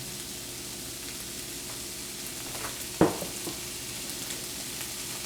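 Beans frying in a pan with ground cumin sprinkled in, a steady soft sizzle under quiet stirring, with one clear utensil scrape or tap near the middle.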